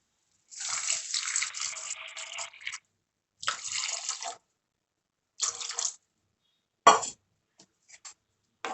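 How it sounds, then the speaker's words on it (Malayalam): Water poured into a pot of vegetable soup, splashing in several short bursts separated by pauses, close and moderately loud, with no talking. "കുറച്ച് വെള്ളം ഒഴിച്ചു കൊടുത്ത്"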